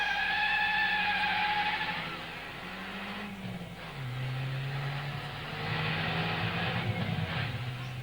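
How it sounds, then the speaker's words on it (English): A car pulls away outside, its engine rising and then settling into a steady drone that carries on at moderate loudness, with no voices. "Listen, there goes the car."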